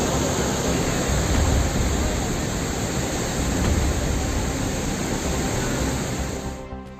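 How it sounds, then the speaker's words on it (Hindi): Floodwater rushes over a mountain road during torrential monsoon rain in the Himalayan hills, a steady loud broadband roar that holds constant and then drops away abruptly at the very end. "रास्ते में पानी इस तरह से बह रहा है कि भारी भरकम ट्रक भी आगे बढ़ने में सहमे नजर आ रहे हैं"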